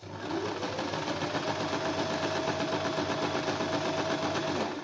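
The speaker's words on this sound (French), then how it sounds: "je vais coudre seulement les 2/3" Sewing machine running steadily while stitching a fabric face mask, a close, even rapid mechanical chatter that holds at constant speed without pauses or talk.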